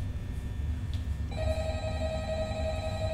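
A phone rings in the horror game Five Nights at Freddy's: a steady electronic tone starts about a second in and holds to the end, loud over a low background hum with no talk.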